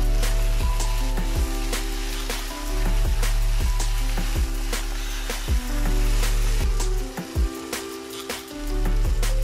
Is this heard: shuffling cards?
no